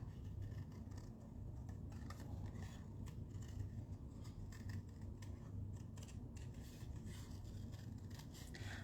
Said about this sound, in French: Au ciseau.